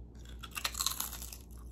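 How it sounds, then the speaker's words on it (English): Homemade lavash chips crunched in bites, a few crisp chewing crackles clustered near the middle, close and fairly quiet with no talking. "we're gonna taste those Lavash chips"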